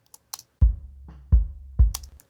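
Unprocessed sub bass drum track giving three deep, heavy low-end thumps spaced a little over half a second apart, with faint high clicks between the hits; close and without speech.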